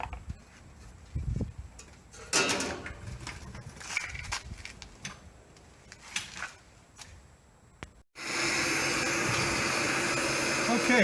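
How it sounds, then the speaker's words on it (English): A heat gun warming a part during a shuttle bus RV conversion roars on loudly and steadily in the last few seconds, after clattering handling noises and a voice speaking. "let me go get the heat gun and get this on here first."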